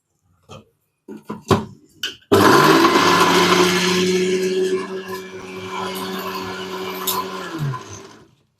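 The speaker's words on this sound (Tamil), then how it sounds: "தேவையான பொருள்லாம் ஆட் பண்ணியாச்சு. அரைச்சி எடுத்துக்கலாம்." A mixer grinder grinds spice masala of red chilli powder and coriander powder for a prawn and okra curry. A few clunks come first, then a loud, steady motor whir lasts several seconds before cutting off.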